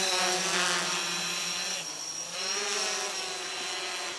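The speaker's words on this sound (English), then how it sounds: "So we're gonna press this red button to start off the engines." A Typhoon H drone's motors spin up for takeoff, giving a loud, steady, high-pitched whine with a buzzing edge that holds throughout and shifts slightly in pitch partway through.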